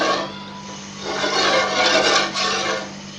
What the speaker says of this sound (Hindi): अब हमें क्या करना है, हल्की आंच पे इसी तरीके से चम्मच चलाते रहना है।